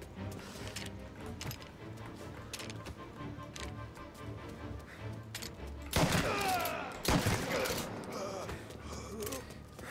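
Gunfire in the Mafia video game: a steady crackle of distant shots under game noise, then two louder, nearer bursts partway through, with voices talking.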